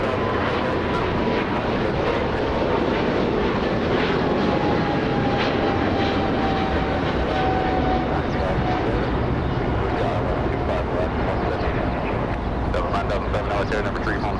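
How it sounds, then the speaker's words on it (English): A Boeing 777 airliner taking off at Los Angeles International Airport at golden hour, a loud, steady jet roar that fills the whole stretch with a faint whining tone drifting across it. "a golden hour takeoff by this 777 coming in 4 hours late"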